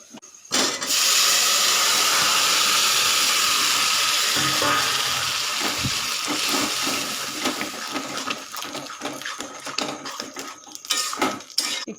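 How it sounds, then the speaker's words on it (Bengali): Greens for a Bengali dal and mixed-greens dish hit hot oil in a pan, giving a loud, steady broadband sizzle and hiss that starts abruptly, then breaks into crackling spatters and clinks of utensils as it settles. "এবার শাকটা এর মধ্যে ঢেলে দেবো"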